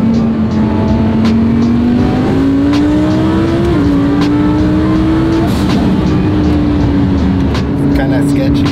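A twin-turbo Audi R8 pulls hard in third gear on the freeway, its engine drone rising steadily with a brief dip near the middle, then climbing again, loud and continuous from inside the car with road roar beneath.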